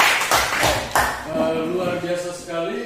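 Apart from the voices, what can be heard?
classroom applause for group 3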